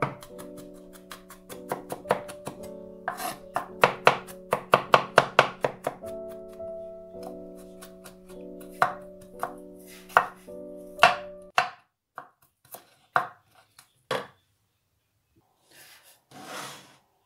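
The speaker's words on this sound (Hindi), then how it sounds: "तो यहाँ ये मैं लहसुन काट रही हूँ।" Garlic cloves are chopped with a knife on a board in a home kitchen, a rapid run of crisp, close taps that slows into scattered, separated strikes before stopping.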